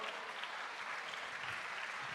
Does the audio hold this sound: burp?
no